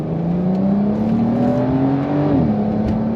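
A Porsche 992 911 Carrera S engine pulls up through the revs in a steady rising drone, then drops pitch sharply at a gearshift near the end, heard loud and close from inside the car with no talk.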